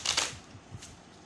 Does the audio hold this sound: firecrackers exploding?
no